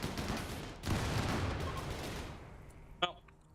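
Turret gunfire rattles in a RimWorld battle, a dense stretch of rapid shots that thins out and fades, ending with a single sharp burst near the end.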